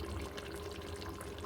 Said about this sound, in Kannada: ನೋಡಿರಿ ಎಷ್ಟು ಚೆನ್ನಾಗಿ ಕುದೀತಾ ಇದೆ